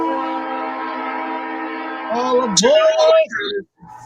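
A train horn, used as a sound effect for a podcast trailer segment, blares as a steady, loud multi-tone blast for about two seconds before giving way to a voice and other brief sounds.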